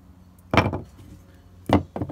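A hammer strikes a glued exterior wood joint in two sharp, loud impacts about a second apart, the second followed by a quick smaller knock, with quiet gaps between.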